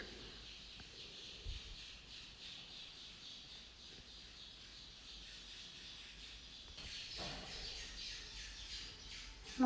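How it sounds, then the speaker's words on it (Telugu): House sparrows nesting indoors give rapid, repeated chirps and squawks, fairly faint and distant against a quiet household background. "మా ఇంట్లో గూడు పెట్టుకున్న పిచ్చుకలు తెగ అరుస్తున్నాయి"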